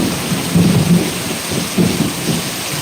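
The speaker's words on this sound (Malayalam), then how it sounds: "നല്ല ഇടിയുമായാണ് മഴയാണ്" Heavy rain hisses steadily while low thunder rumbles and rolls through in two broad swells, with no voices present.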